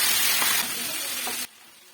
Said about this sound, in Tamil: இப்போ மல்லி இதில் போட்டு நல்லா வதக்கிடலாம்